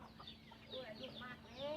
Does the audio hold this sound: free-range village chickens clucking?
yes